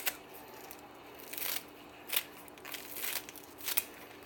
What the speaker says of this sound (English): Take a pair of kitchen scissors and really just cut them.